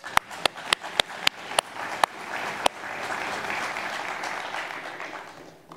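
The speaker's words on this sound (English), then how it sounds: "So moms are to be applauded." A church audience applauds, with several sharp isolated claps at the start that swell into a sustained round of clapping from a sizeable crowd.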